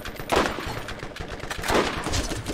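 Pistol gunfire in Borderlands, the 2009 shooter game: bursts of loud, close shots in two main clusters with rapid follow-up cracks, amid game noise and no talking.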